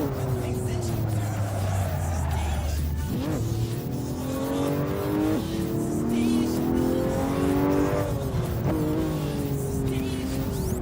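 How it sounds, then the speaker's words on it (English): A Porsche in a sim racing game accelerates hard, its engine note climbing through the gears in rising revving sweeps with brief dips at shifts, loud and continuous from start to finish. "I did put my foot down in the Porsche"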